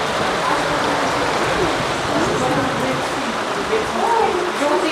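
Steady rain falling in a village, a dense even hiss throughout with faint voices murmuring underneath.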